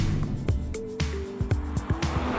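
An Aston Martin DB11 with a twin-turbo V12 drives on roads in Tuscany, its engine note steady and moderately loud from inside the cabin, with rhythmic thumps and a faint tonal whine rising over the drone.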